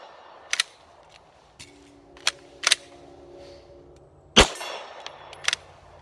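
Pistol with an aftermarket slide stop lever fires at a range, several sharp reports spaced across the moment, the loudest one in the middle, with smaller clicks and clangs between, no talking.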